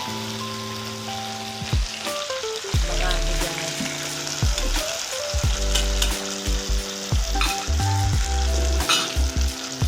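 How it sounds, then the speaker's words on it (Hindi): Ajwain seeds sizzle and crackle as they are tempered in plenty of hot oil, a loud steady frying hiss with stirring clinks, while someone talks briefly over it. "अजवाइन पड़ती है, अजवाइन का तड़का लगाते हैं।"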